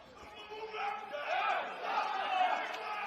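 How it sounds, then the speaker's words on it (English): Crowd noise at an indoor ice hockey quarter final between Birmingham and Wolverhampton in Glasgow, a steady roar of many voices with rising cheers and chanting, swelling twice and holding loud throughout. "Crowd really getting into this one as well."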